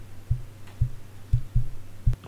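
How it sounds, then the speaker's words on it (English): Five soft, dull thumps come from a fingertip tapping a microphone, spaced irregularly over a low steady electrical hum. "just the sound of someone tapping a microphone"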